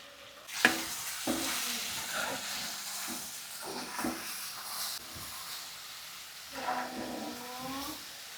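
Pumpkin palya being stirred in a pan, a gentle sizzle and hiss with intermittent scraping spoon strokes and a few louder knocks, fairly quiet overall.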